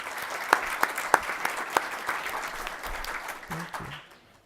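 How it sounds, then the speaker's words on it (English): A room of people at a county business meeting clapping steadily, with a few sharp louder claps standing out, fading to quiet at the end. "Let's all give Miss Sandra Davis, our new clerk, a round of applause"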